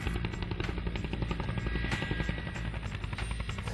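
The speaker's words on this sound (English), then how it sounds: "we are going to use a helicopter to heli lift and place in the dam" A helicopter on heavy-lift aerial crane work, carrying and placing a load into a dam in Australia, drones steadily with a constant rotor thrum, close and loud throughout with no talk.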